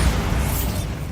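Bombarda spell blast in the Hogwarts Legacy video game: a dense, roaring explosion with a heavy low-end boom that fades over about a second, loud and close.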